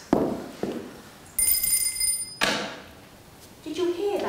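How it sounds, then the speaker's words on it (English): A household bell, rung as a signal on a stage production, gives one sustained ringing tone of about a second amid stage noises and speaking voices. "Did you hear that bell ring?"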